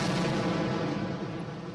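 Explosions from an airstrike hitting a building, a dense, rumbling barrage of blasts with a sustained low boom rolling on, distant-sounding but loud, with no speech.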